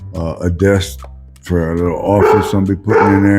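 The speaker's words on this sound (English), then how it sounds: "Sorry about my dogs." Dogs barking indoors at home, loud sharp barks mixed in with someone talking nearby.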